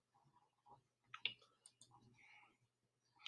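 A computer mouse gives a few faint, sharp clicks in an otherwise quiet room, scattered and irregular across a few seconds.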